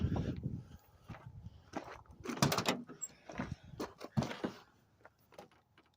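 An old truck's repaired door is worked by hand, giving a series of close metallic clunks, latch clicks and creaks spread unevenly over several seconds, with quiet gaps between the knocks.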